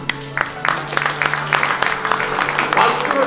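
Applause from an audience at an awards ceremony in Songpa, a run of clustered hand claps at moderate loudness, mixed with a continuous tonal background and possible voices.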